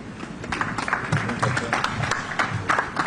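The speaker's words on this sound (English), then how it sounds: "Round of applause for Joeta Gonzalez" Applause and clapping from a crowd at a boxing press briefing, a steady patter of hands lasting a few seconds in an indoor room.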